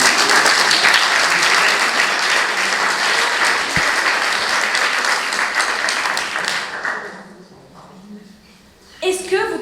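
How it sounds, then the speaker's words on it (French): Loud, sustained applause from an audience at an eloquence contest final greets a speaker, dense clapping that fades after about seven seconds, then a voice begins near the end. "n'hésitez pas à l'applaudir"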